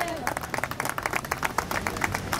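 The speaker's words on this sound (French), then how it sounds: "On peut les applaudir." Crowd at a rally in support of Palestinians clapping in a quick, uneven burst of distinct hand claps, fairly close, with voices mixed in underneath.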